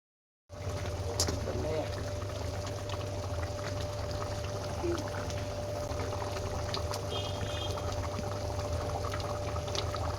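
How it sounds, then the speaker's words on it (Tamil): Water pours into a pan of cauliflower gravy with ginger, garlic, tomato and onion and is brought to a boil, giving a continuous moderate hiss that starts abruptly and holds steady. "தண்ணி ஊற்றி கொதிக்க வைத்துக்கலாம்."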